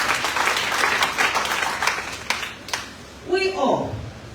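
A crowd applauds with a burst of clapping that fades after a few seconds, then a voice begins speaking.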